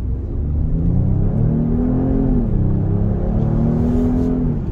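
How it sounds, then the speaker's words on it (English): Genesis GV80 in sport mode with engine sound piped into the cabin, a steady low droning hum and gentle rising rev that holds evenly throughout, heard alone without talk. "And there's a little bit of engine noise being piped in."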